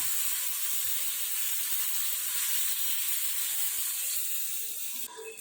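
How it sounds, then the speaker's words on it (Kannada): Hot tempering poured into a mixed vegetable curry of jackfruit, Mangalore cucumber and pumpkin gives a steady, close sizzling hiss that holds evenly for several seconds, with a small clatter near the end and no talking. "ಇವಾಗ ಇದಕ್ಕೆ ಇದನ್ನು ಒಗ್ಗರಣೆನ ಈ ಹುಳಿಗೆ ಸೇರಿಸ್ಕೊಳ್ಳೋಣ"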